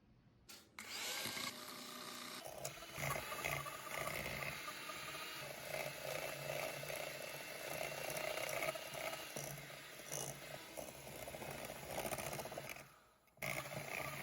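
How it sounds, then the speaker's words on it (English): An electric hand mixer whirs continuously as it creams butter with brown and white sugar in a bowl, a close, steady motor drone with grinding scrapes that lasts about twelve seconds before cutting off. "now I'm using the hand mixer"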